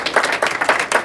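A short burst of clapping from a group at a black belt graduation ceremony, loud and close with a few uneven rhythmic claps.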